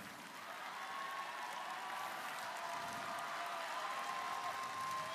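A large crowd at the 2019 FTC World Championship awards ceremony in Houston gives a round of applause for student finalists, steady, even clapping heard from a distance and fairly faint throughout.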